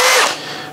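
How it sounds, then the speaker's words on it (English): A Skil power drill with a rubber attachment spins loudly and close up, whining briefly before its pitch drops and the motor winds down within a second. "So I'm gonna use my trusty skill drill"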